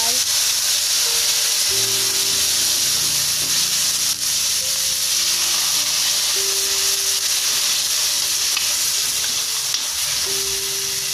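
Steady, broadband sizzling and hissing as water is added to a hot pan while cooking fried noodles, loud and continuous throughout, with faint clinks and stirring beneath.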